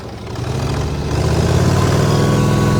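Dexheimer 222 tractor engine running loud and close, a steady low throbbing chug that builds slightly in intensity and then holds, with no talking.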